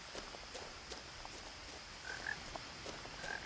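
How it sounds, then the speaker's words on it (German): Frogs croak in the video game What Remains of Edith Finch: faint, scattered short croaks over a steady quiet ambient background, with a few calls bunched toward the end. "du quakt, Frosch"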